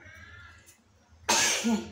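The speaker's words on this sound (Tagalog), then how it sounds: "Yan na bahing." A single sharp, loud sneeze bursts out after a quiet stretch of low background sound in a kitchen while fish soup with moringa and rice is being served.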